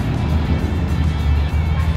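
Street traffic rolling past outside a deli in Pigeon Forge, Tennessee, a steady low rumble of cars close by with no break across the stretch.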